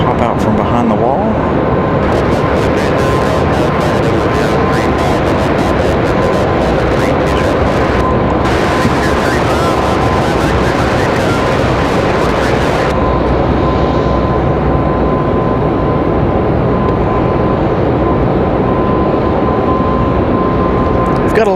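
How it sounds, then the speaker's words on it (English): A CRJ regional jet at Raleigh-Durham International Airport gives off a steady, loud jet roar with a persistent whine, the noise swelling and thinning over about twenty seconds as it moves near the runway. "Got a CRJ, speaking of, CRJ down here, getting ready to pop out from behind the wall."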